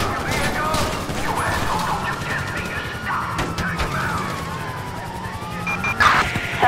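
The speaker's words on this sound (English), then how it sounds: "Units reporting shots fired at an officer on Sonora Freeway." Gunfire and crashes in the Grand Theft Auto V video game during a police truck chase, with bursts of shots, impacts and sirens mixed under a police radio voice.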